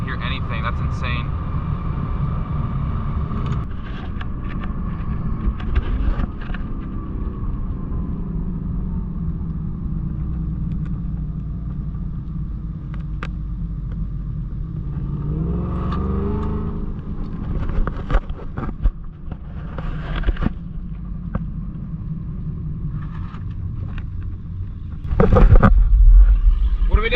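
A loud stock car engine roars continuously during racing, a deep rumbling drone with wind buffeting and occasional louder surges, while people talk over it.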